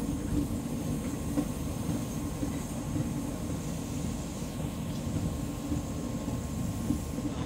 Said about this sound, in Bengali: ট্রেন কিন্তু ছেড়ে দিল ভদ্রক স্টেশন থেকে